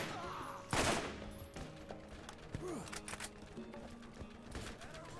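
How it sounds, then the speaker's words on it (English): Enemy gunfire in the video game Borderlands crackles in scattered bursts with a loud blast early on, mixed with game effects at moderate volume. "I'm getting shot to shit from someone"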